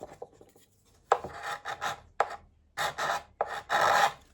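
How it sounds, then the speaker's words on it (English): Sandpaper or a scraper rasps along freshly glued binding on a handmade guitar body, in a run of about six short, close, dry scraping strokes separated by brief pauses. "I can now take a bit of sandpaper or a scraper and just clean that up"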